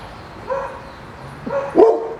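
A dog indoors gives two or three short, yelping barks and whimpers, close by and moderately loud, spaced over about two seconds against a quiet room.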